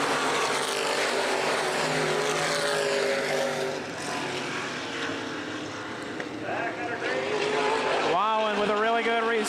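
Open-wheel modified race cars roar on a restart at Baer Field Speedway, a dense, continuous engine drone with rising revs as the pack accelerates, loud and steady, with an announcer talking over it throughout.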